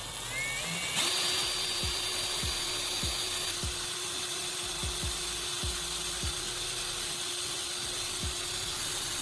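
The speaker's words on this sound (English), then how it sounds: "Then I'll drill the holes at the marked points." A power drill whirs steadily at moderate distance, with a sharp repeated clicking or knocking roughly every half second beneath the continuous motor whine.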